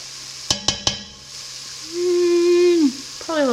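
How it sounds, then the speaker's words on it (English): Thai curry chicken noodle soup is stirred in a pot: three sharp knocks of the utensil against the pot, then a sustained scraping, squeaking swirl through the liquid, and a shorter squeak at the end. "We're gonna stir it up."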